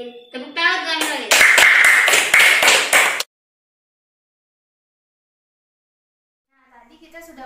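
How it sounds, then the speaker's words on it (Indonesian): A classroom group claps together in a brisk burst of about eight sharp, evenly spaced claps, loud and close, after a short spoken lead-in, followed by silence and faint talk at the end. "Tepuk tangan Tuan Rolis."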